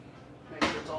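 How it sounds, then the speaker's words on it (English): Cooking spray is sprayed into the inside of a pan while making Japanese pancakes: one short, close, hissing burst that starts suddenly after a quieter stretch. "And we will spray the inside."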